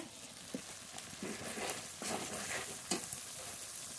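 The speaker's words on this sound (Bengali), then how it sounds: "মশলা খুব ভালো করে কষিয়ে নেব" Spice paste for a Bengali aloo potol curry frying in oil while being stirred, a soft, close sizzle broken by scraping spoon strokes against the pan, heard alone and fairly faint.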